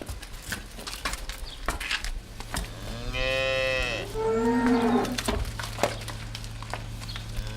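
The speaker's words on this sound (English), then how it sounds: "The cows and calves start to make their way down the street towards the field" Cows and calves moo on a farm street, two long drawn-out lows in sequence close by, with scattered clicks and light patter around them.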